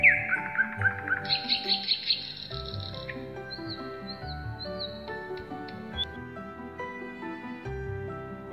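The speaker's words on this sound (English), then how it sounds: "A bird lives in a nest." Several birds chirp and tweet in quick bright bursts over light background music, loud at first and then softer, continuing throughout.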